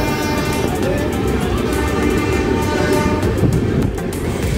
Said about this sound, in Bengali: আজকের মতো বাঁকুড়া স্টেশনকে বাই বাই জানিয়ে আমাদের ট্রেন চললো রাঁচির দিকে